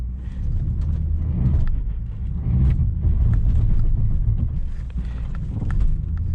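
A 2010 Volvo XC90 V8 crawling off-road through snow, its low engine rumble steady and close, with crunching and clunking from the tyres and chassis over uneven ground.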